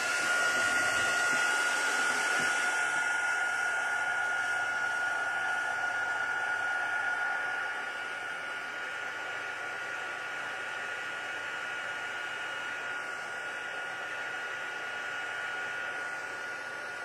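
A heat tool blows hot air to melt embossing powder on a card, giving a continuous whooshing hiss with a steady high whine that dips slightly in level midway, close and alone.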